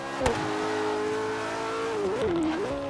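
McLaren 570S Coupe rallycross build engine in Forza Horizon 3 drones steadily at high revs, then its pitch dips and wavers as the throttle eases, with a brief tire chirp early on.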